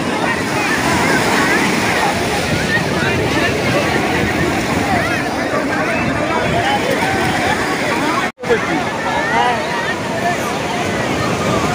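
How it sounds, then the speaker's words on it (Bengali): Sea waves break on Puri beach at high tide, a loud continuous roar of surf and wind buffeting the microphone, with a crowded beach's voices mixed in and a brief dropout midway. "আজকে হচ্ছে আমাদের সেকেন্ডে আরও বেশি ঢেউ, মানে জোয়ার আছে বলে বেশি জোর ঢেউটা আসছে"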